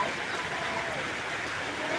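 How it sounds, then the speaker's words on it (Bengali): Heavy rain falling during a thunderstorm, a steady, even hiss of downpour with no breaks and no voices. "আমার এখানে প্রচুর পরিমাণে বৃষ্টি হচ্ছে"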